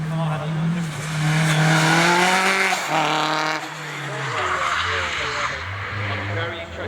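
A 400-horsepower four-wheel-drive Audi TT Quattro rally car at Rallye Prescott 2025 revs hard and shifts through gears, its engine note climbing and dropping with tyre squeal, loud and close, with commentary running underneath.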